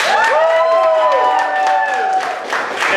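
Audience at a comedy improv show clapping, cheering and whooping, a loud crowd response that fills the room and stays steady for a few seconds.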